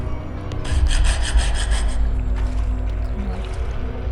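A saw rasps back and forth in the video game Метель, with about six quick, rhythmic strokes up close that then fade into quieter scraping.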